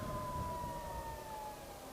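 Harley-Davidson LiveWire electric motorcycle riding along with its motor giving a steady, high tonal whine over a faint bed of wind and road noise.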